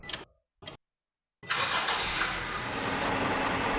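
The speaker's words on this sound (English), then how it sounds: "Start the engine up." A car engine cranks with two brief clicks, goes silent, then catches and starts. It settles into a steady, loud idle during automatic transmission pressure testing.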